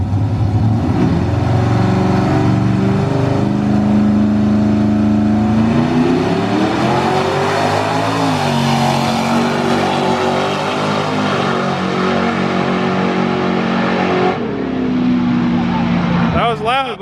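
A drag race car's roaring engine screams continuously at high volume, its pitch climbing and shifting as it accelerates hard, loud throughout with a sharp burst near the end.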